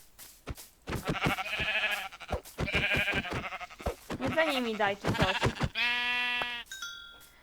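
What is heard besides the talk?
sheep bleating in Minecraft video game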